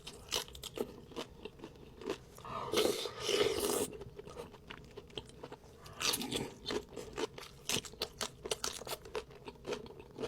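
Crunchy shrimp shells being chewed up close, with repeated loud crackling bites and crunches in uneven bursts throughout, with no talking.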